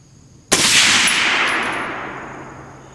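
6.5 Creedmoor Night Stalker Precision AR-10 rifle fired once outdoors on a range: a single sharp, loud crack, then a long fading echo and ringing tail.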